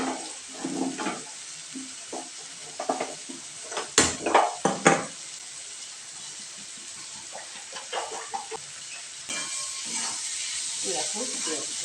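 A cooking pot is handled on the stove while water heats during a meat curry, with clattering clanks in a short burst near the middle over a soft hiss and light kitchen bustle throughout.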